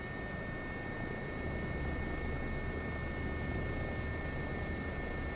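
Steady, continuous engine and rotor drone of a Bell 105 helicopter in a flight simulator, a dense low rumble holding at an even level throughout with no talking.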